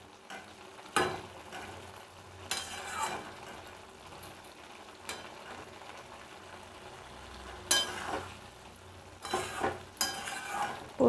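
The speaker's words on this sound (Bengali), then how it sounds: "পোস্তটাকে খুব ভালো করে আমি ফুটিয়ে নেব" Aloo posto, a thick poppy seed paste with potatoes, bubbling in a pan with soft sizzling, broken by several sharp clacks and scrapes from stirring, close and fairly quiet.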